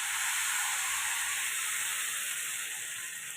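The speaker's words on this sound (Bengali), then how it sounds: "এবার এই বাটি 1 বাটি আমি জল দিচ্ছি" A bowl of water is poured onto rice and spices frying in a pan, setting off a loud, steady sizzling hiss that fades slightly toward the end, close by with no voices.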